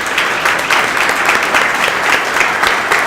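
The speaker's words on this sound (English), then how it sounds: "How about a round of applause?" Loud, dense applause from an audience at a talk on drug development, a continuous wash of clapping close to the microphone with no speech over it.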